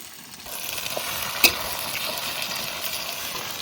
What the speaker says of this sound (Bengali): টমেটো দিয়ে একটু ভেজে নিয়েছি